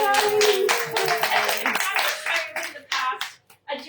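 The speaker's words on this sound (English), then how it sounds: "Round of applause for Elizabeth, everybody." An audience claps at a talk by a travel TV host, the applause loud and dense at first, then thinning into scattered claps with short gaps near the end.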